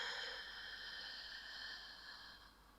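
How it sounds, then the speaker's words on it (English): Slow, steady breath let out through the nose during a guided breathwork session, a soft airy hiss that fades gradually over about three seconds, quiet and close with no talking. "Slow exhale."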